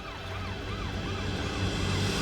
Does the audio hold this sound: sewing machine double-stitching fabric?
no